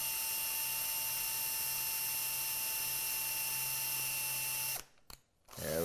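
A power drill boring a hole, a steady high-pitched mechanical whine running continuously and loud, then cutting out abruptly near the end with a short sputter and stop, no talking.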